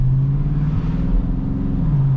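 A 2021 Scat Pack car engine rumbles loudly and close under light throttle, a steady deep drone with a slight rise in pitch.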